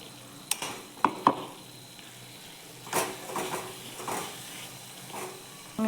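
Beetroot halwa being stirred in a pan after cardamom powder is added, with a spoon scraping and clinking against the pan in several uneven strokes over a soft sizzle, close and moderately loud.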